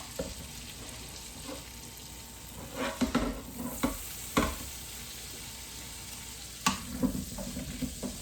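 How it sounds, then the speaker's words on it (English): Shallots frying in butter with a steady sizzle, broken by several sharp stirring scrapes and clatters of a utensil in the pan, close and alone with no talk. "You can just go ahead and start adding your shallots in"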